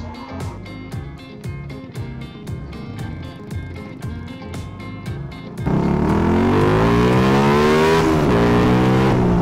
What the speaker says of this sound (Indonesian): di sini juga gasnya agak saya sentak-sentak buat ngecek apakah tarikan bawah ke tengahnya kalau disentak ngok atau enggak